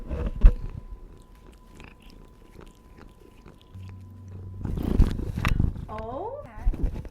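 A pet cat purrs close by, a soft low steady rumble in the second half, broken by brief handling noises and a few short higher chirps near the end; no clear talk over it.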